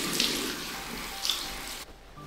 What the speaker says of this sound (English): I wash it in the sink